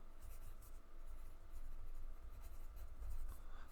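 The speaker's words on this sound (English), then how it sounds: "Let's write" Handwriting with a pen on paper: continuous close scratching strokes with brief pauses, steady and fairly quiet against a low background rumble.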